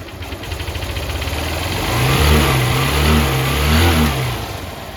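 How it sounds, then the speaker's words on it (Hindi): A freshly rebuilt motorbike engine after engine fitting, now free of its earlier piston noise. It revs up and down in repeated, swelling surges over a rough idle, loud and close. "गाइस मैंने इंजन फिटिंग कर दिया और मैं आप लोगों को इंजन की साउंड सुनाना चाहता हूँ।"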